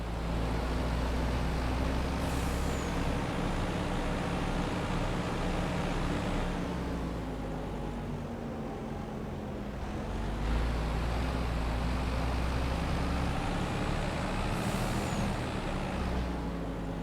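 A heavy farm vehicle in Farming Simulator 25, harvesting sunflowers on the Zielonka map, drones steadily with a loud engine rumble while short hissing air-brake releases burst out twice as it comes to a quick stop.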